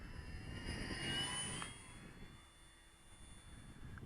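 An RC model plane's engine opened up for takeoff, a sustained whining drone that is strongest early on, then eases and fades to a faint distant hum.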